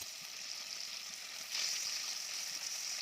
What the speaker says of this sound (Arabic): اول ما الزبدة بتاعتنا تسيح هننزل اول حاجة بالقوانص